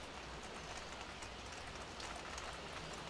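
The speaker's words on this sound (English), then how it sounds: "You can hear the raindrops." Rain falls in the Farming Simulator 15 video game as a steady, soft hiss of drops, quiet and unbroken with no voices over it.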